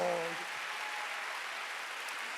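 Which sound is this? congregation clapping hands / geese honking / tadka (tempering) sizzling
congregation clapping hands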